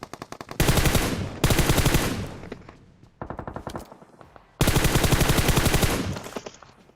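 Automatic gunfire from a Tommy gun and an M4 in the mobile game PUBG Mobile, loud close bursts of rapid shots in several long volleys separated by brief pauses.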